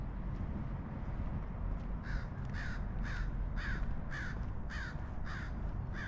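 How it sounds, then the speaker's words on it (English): Several crows caw from the trees of St. Augustine Cemetery in Pleasanton, California, about eight harsh calls in an even rhythm over steady outdoor wind and hiss, fairly close and clear. "Oh, there's the crows."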